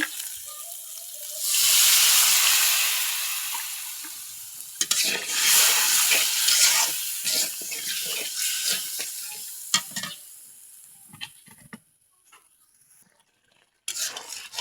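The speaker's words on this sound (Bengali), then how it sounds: "মশলাটা কষাই নিব।" Spice paste with turmeric, salt and a little water sizzles in a pan, beginning with a loud burst of frying, then irregular scraping stirs and clattering that fade into near silence before a final sizzle.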